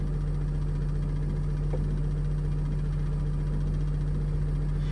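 Engine of a 2007 Freightliner Sprinter running with the gas pedal lightly pressed, a loud, steady low drone and hum with constant vibration, close and unbroken throughout.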